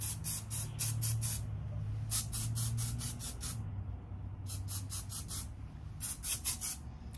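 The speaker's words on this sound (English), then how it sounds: "This is the Dry Texture Finishing Spray from Redken." Repeated bursts of Redken Dry Texture Finishing Spray from an aerosol can being sprayed onto hair, close and crisp hissing pulses in rapid groups with short pauses between, over a low background hum.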